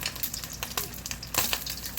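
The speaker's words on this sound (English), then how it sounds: "add in the tomato and the garlic in this, and let it fry" Tomato and garlic fry in a pan with a quiet, close crackling sizzle broken by small irregular pops and a few brief stirring scrapes.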